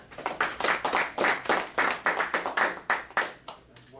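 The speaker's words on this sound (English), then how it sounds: "So let's give him a round of applause." Rhythmic clapping at an end-of-year presentation, with sharp, evenly spaced claps of roughly three per second that sound like a small group clapping together.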